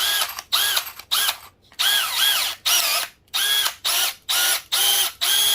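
A cordless drill on a 12V battery whines in repeated short bursts, about nine trigger pulls each rising and falling in pitch, loud and close with brief pauses between them and no voices.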